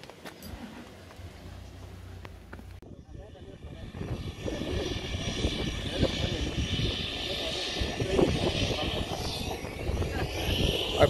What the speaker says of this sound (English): Our plane's here.